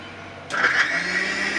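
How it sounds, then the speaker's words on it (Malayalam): A blender whirs into action partway through, blending a coconut shake with Boost and cashews; a sharp start gives way to a loud, steady motor whine that runs to the end. "നമുക്കിനി പെട്ടെന്നൊന്ന് അടിച്ചിട്ട് എടുക്കാം"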